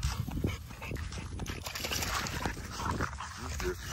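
Puppies whimper and whine near water, with short high yelps and scuffling movement close by over a steady background, a few faint voice-like sounds mixed in.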